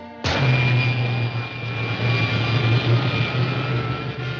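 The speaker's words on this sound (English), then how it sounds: "Fire pilot jets." Rocket ship pilot jets fire on a science-fiction serial soundtrack: an abrupt loud roar bursts in and holds steady as a continuous engine-like rush with a low hum, alone without talk.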